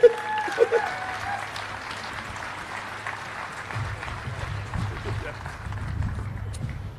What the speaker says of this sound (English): this will be the first of many rounds of applause for Shane Fernandez